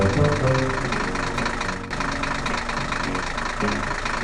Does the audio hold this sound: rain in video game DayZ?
no